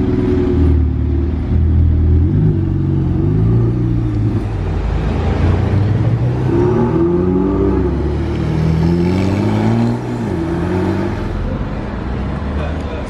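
A Ferrari 488 Pista climbs past in a convoy of rare supercars at a car-spotting event, its engine rising and falling through loud revving pulls amid steady street traffic rumble, with people talking in the background.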